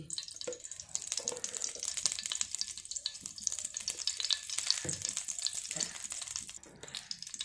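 A few spoons of oil heat in a kadai on the stove before fish go in for an Andhra-style fish curry, making a faint, crackly sizzle with scattered small pops throughout.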